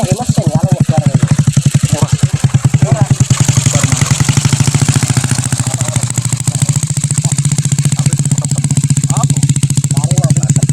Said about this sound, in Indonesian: Ini nggih mesin kalau nyebar ini.